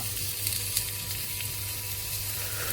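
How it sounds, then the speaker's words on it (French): Beef searing in a very hot pan with oil and butter, a steady loud sizzle and crackle of frying meat heard up close without any talk. "l'huile, le beurre, une poêle bien chaude et on met la viande"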